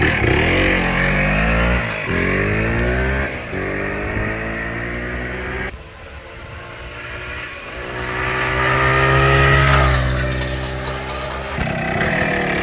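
A Kawasaki 350 Bighorn enduro motorcycle with a rotary valve two-stroke engine is ridden, its loud buzzing engine rising and falling in pitch through gear changes and throttle swells, close and continuous with no talk.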